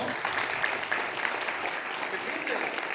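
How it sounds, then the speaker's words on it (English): Brief audience applause at a public speaking workshop, thanking the woman who gave the introduction: a short, even patter of clapping from a modest crowd, fairly soft and continuous. "Let's give a round of applause to her."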